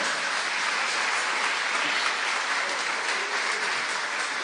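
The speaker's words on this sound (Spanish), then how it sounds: "Dale fuerte ese aplauso al Señor." A church congregation applauds together during a sermon on Christian marriage, a dense, steady wash of clapping that holds evenly throughout with no voices on top.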